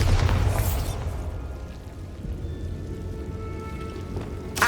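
Bombarda blasting spell in Hogwarts Legacy: a sharp burst at the start, then a crackling, debris-like tail and another pop at the end, loud and close.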